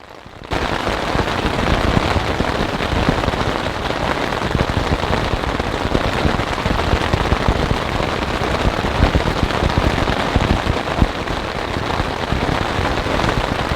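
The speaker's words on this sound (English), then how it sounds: "It's storming" Heavy rain drums steadily on a tent through a thunderstorm, a dense, continuous patter that runs the whole time with small sharp drop impacts and no voices.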